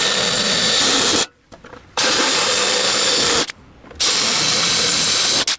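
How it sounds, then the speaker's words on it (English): An electric drill whines loudly while boring a 5mm hole through a metal table, stopping twice for brief pauses before starting again at full speed. "A 5mm diameter hole is then drilled through the table at each of these marks"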